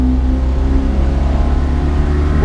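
The engine of a 1980 Mitsubishi Minica climbing uphill, a loud steady drone that holds under load with a slowly rising pitch, close and continuous with no voices.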